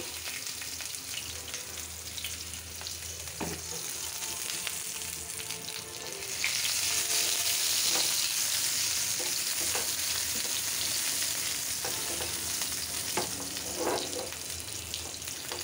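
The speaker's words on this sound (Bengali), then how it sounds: "এখন এখানে টমেটো টক রান্না করেছি, সেটা বাগার দিব।" A tomato sour dish being tempered in a hot pan sizzles loudly and continuously, the frying swelling louder midway and holding steady, with faint clinks of stirring and no talk.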